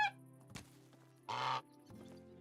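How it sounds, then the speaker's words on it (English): A goose honk sound effect triggered by jumping in Medieval Dynasty, one short nasal honk standing out among quiet game ambience and a few soft thunks. "Every time you jump, you make a geese honk sound too."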